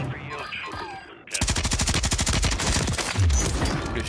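Rapid automatic gunfire in the video game Warzone 3, a loud steady stream of shots after a short stretch of quieter game sounds and voices.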